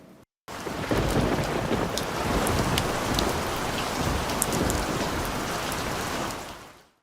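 Heavy rain with stormy wind pours in a loud, unbroken roar after a brief quiet start, with no voices, then fades away at the end.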